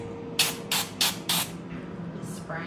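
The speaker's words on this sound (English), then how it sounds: "Spraying." Four short hissing bursts from a dental spray during a cat's tooth cleaning, in quick succession, close up, followed by a quieter hiss, over a low steady hum.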